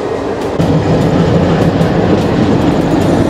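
A passenger train on the Shirdi to Bangalore run, just departed Kopargaon station, rolls along loudly from inside, with a steady rumbling roar and periodic rail-joint clacks, no talking.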